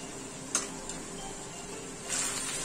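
Spices being stirred into a soybean and potato curry in a pan, with a soft, steady sizzle and a few scraping stir strokes, louder near the end; no voices.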